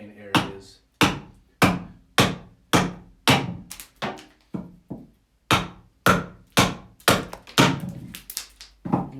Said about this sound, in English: a little bit heavier axe as well will work through that end grain areas